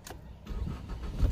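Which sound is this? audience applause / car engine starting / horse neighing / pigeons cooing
car engine starting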